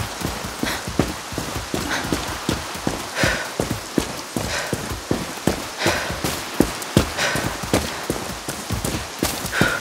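Rapid rhythmic hoofbeats of a horse galloping in the video game Far Cry 6, a steady driving clip-clop close and loud that carries on for the full stretch with no talk over it.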